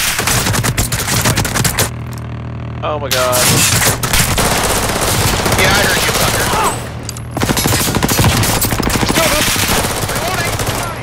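Helicopter door gunner's machine gun hammering in a video game, rapid loud bursts with short pauses between them, and a player exclaiming briefly over the fire.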